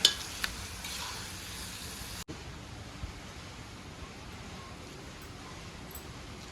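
Mutton Nalampatti varuval being stirred with curry leaves in a pan, a soft continuous scraping and low sizzle with a brief gap partway through, steady and fairly quiet.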